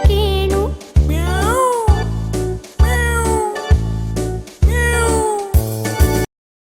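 A kitten meows in a Malayalam nursery rhyme, the sung, voice-like cries repeating about every second over a steady musical backing.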